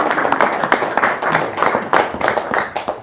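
An audience claps together in sustained, dense applause, steady and fairly loud with many overlapping hands and no pauses.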